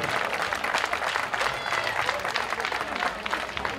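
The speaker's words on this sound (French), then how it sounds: "je vais demander à tout le monde d'applaudir très fort Stéphane" An audience at a youth pétanque triples world championship event applauds steadily, dense continuous clapping with a crowd murmur, holding at an even level throughout.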